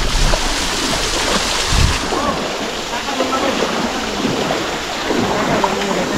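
A forest stream in a Bandarban reserve forest runs full after rain, a steady close rushing of water with a brief low thump partway through.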